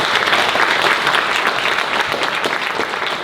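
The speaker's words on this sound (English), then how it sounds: "Can we get another round of applause for our panelists?" Sustained applause from an audience honoring panelists at a talk on Tule River Yokuts spirituality and practice, dense steady clapping filling the whole stretch at an even, fairly loud level.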